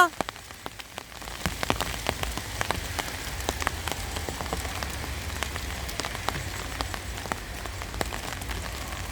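Heavy rain and wind lash a hillside feeding spot, a steady dense patter of drops striking nearby surfaces with sharp individual splats throughout, close and continuous.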